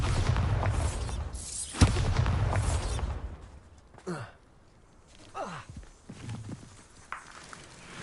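Spell blast from Bombarda in Hogwarts Legacy: a loud rumbling boom with a sharp crack near the start, fading into scattered lighter impacts and whooshing debris over the following seconds.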